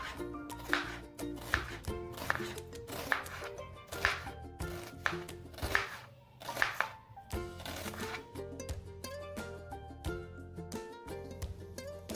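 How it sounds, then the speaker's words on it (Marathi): A knife slices three onions lengthwise on a board for a chole masala paste, giving evenly spaced, crisp chopping strokes over quiet background music. "आपण वाटण बनवण्यासाठी तीन कांदे घेतलेले आहेत आणि त्यांना उभे उभे चिरून घेणार आहोत"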